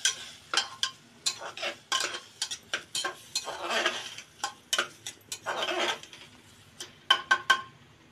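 Rice and moong dal being stirred and fried in oil with spices, a spoon scraping and clinking against the pot in a steady series of short, close strokes with brief pauses between them.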